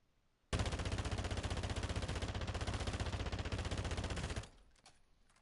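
Sustained automatic weapon fire in Call of Duty DMZ, a single loud, evenly paced burst of rapid shots lasting about four seconds, starting abruptly and cutting off into a short ringing tail.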